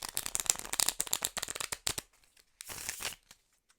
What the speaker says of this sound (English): So let's go ahead and give these a shuffle. Not difficult at all to riffle shuffle